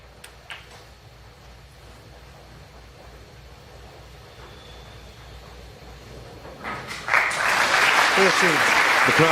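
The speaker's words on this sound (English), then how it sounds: "The crowd applaud" Snooker crowd breaks into applause near the end, a dense burst of clapping rising suddenly after a quiet stretch of low murmur and ambient room noise.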